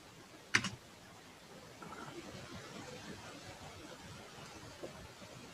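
A site name is typed on a computer keyboard while setting up a WordPress website, a loud click burst at first followed by soft, fast, close key taps under faint room noise.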